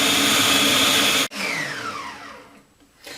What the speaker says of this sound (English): Now we mix it all up in the food processor.